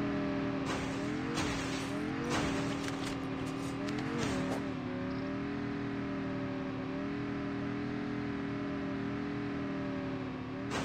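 A car drives in the mobile game Call of Duty Mobile, its engine droning steadily and revving in several surges with brief tire squeals early on, loud and continuous throughout with no talking.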